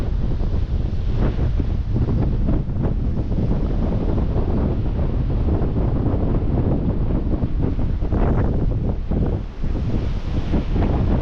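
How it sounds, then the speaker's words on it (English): Cold wind buffets the microphone at a rocky mountain lookout in the Grampians, a loud continuous roar and rumble with gusts rising and falling for the whole stretch. "Oh, that Arctic breeze."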